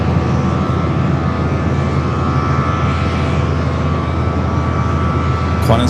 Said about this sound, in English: We're going to get this A380 arrival here on the north.